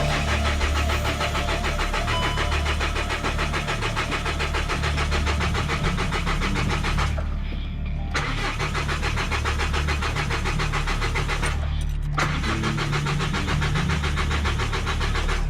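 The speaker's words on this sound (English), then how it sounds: "I'm going to turn the car on / crank it until the oil light comes on the dashboard" A Volkswagen Golf GT TDI diesel engine is cranked by the starter in a long, steady, loud mechanical churn that runs throughout, broken by two brief pauses, without firing up.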